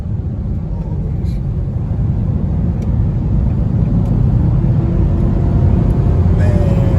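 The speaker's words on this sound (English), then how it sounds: "I love that sound. You didn't do anything to the exhaust, did you?" Infiniti FX50 crossover engine: steady low rumble with a throaty exhaust tone, continuous and fairly loud, rising slightly toward the end.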